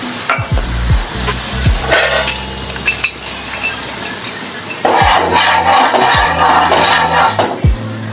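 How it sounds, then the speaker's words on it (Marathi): Water flicked onto a hot salted griddle sizzles loudly, with sharp hissing bursts, scraping and metallic clinks from the pan, close and without talk. "आता मीठ टाकल्यानंतर थोडंसं पाण्याचा शिपका द्यायचा."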